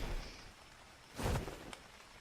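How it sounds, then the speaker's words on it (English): Rain falls in the survival video game Ark as a faint, steady hiss, swelling briefly into a louder rushing burst before settling back to a soft patter. "And it's raining."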